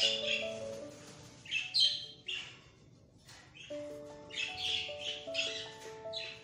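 Parrots and other birds in a breeding aviary give harsh squawks and chirps in bursts, close by, over a low background hum, with no voices.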